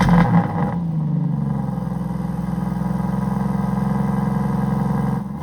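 A 2025 Aston Martin Vanquish V12 with titanium exhaust burbles at a steady, deep idle after a brief blip, the low throbbing drone holding close and even for several seconds.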